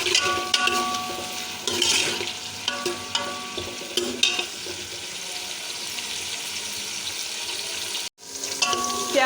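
Chopped onions fry in melted ghee for dal gosht, giving a steady, close sizzle broken by the scrape and clatter of stirring, with no voices.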